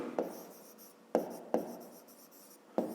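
Pen or pencil writing a fifth-grade math solution, with scratchy strokes broken by four sharp taps as the tip touches the page, close and fairly quiet with no talking.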